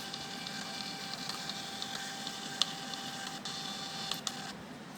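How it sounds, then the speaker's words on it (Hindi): A printer runs steadily while printing out a test report, with a continuous whirring hum and faint mechanical ticks, close and alone without talk. "अब यहाँ से आप ये प्रिंट का बटन दबाओगे तो ये प्रिंट निकल जाएगा।"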